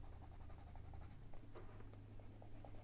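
Colored pencil pressed hard and burnished onto paper, a steady close scratchy rubbing with repeated short strokes over a low background hum.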